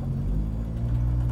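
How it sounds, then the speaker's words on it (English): A 1985 Toyota Corolla AE86 with broken axles revving while only one tire spins, a steady low engine rumble and drone holding close and loud throughout, with no voices. "But right now, the car's just spinning the one tire."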